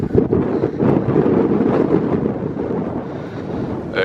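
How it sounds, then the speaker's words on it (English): Strong wind buffets the microphone atop the island of Delos, Greece, with a steady, loud rumbling roar that swells and eases slightly, with no voices. "Extremely windy."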